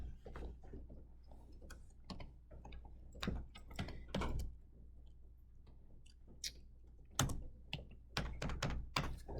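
Code being typed on a computer keyboard, irregular clusters of soft key clicks and thunks at close range, quiet, with no talking.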